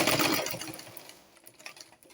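A sewing machine stitches fabric along the armhole of an off-shoulder corset in a steady mechanical whir that fades after about a second, leaving softer scattered clicks, close with no speech.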